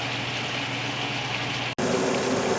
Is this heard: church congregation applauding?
no